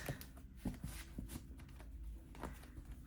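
Tarot cards being shuffled by hand, a string of quick riffling flutters and soft taps close up, faint and continuous with no talking.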